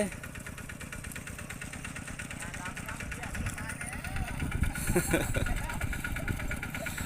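A walking tractor's engine runs with a steady, rapid chugging, swelling briefly louder midway, while someone talks over it.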